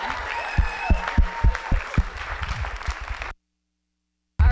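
A comedy-show audience applauds with steady, close clapping for about three seconds. The sound then cuts to silence before a loud burst returns at the very end.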